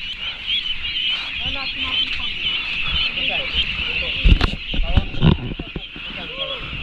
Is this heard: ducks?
yes